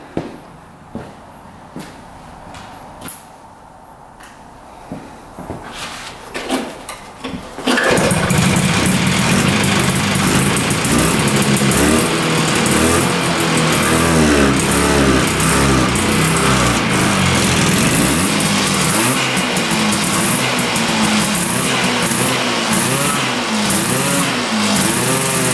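A street-legal 340cc two-stroke trike engine, untouched for 40 years, fires up after a few quiet clicks and knocks, then runs loud and steady close by, its buzzing idle rising and falling with some revving.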